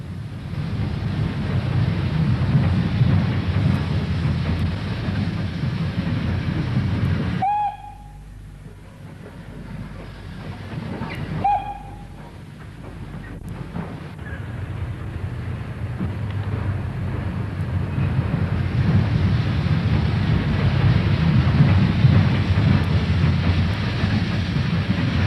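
Two steam locomotives, one a Standard 4, double heading out of Bury's Bolton Street Station, a steady loud rumble of the train with a dip midway where faint whistle-like tones cut through, then the roar builds again.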